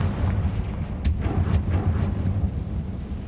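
Fire spell explosions in Hogwarts Legacy, a dense rumbling roar of blasts with a couple of sharp crackling bursts near the middle, loud and continuous with no talk.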